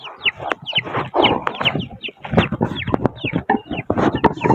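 A flock of chickens clucks continuously at feeding time, many birds close by calling over one another in a busy, overlapping chorus with no pause.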